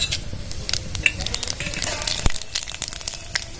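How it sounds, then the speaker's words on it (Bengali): Dry red chilli and panch phoron sizzling in hot mustard oil in a wok, a steady close hiss with light crackles and a stirring scrape, brief and continuous. "ফোড়নের জন্য শুকনো লঙ্কা আর পাঁচ ফোড়ন নিয়েছি দিয়ে দেবো"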